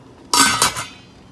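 A lid set onto a pot of simmering fish soup: one sharp metallic clink followed by a second, softer rattle as it settles, close and clear in an otherwise quiet kitchen.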